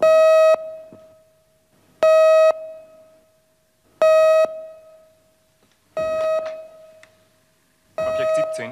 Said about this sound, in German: Wir haben Alarm für Objekt 17.